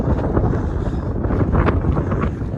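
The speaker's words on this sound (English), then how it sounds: "Wind's easing a bit now." Wind gusting across an open hillside on a walk between Marsden and Greenfield, a loud rushing buffet against the microphone that swells and dips without letup.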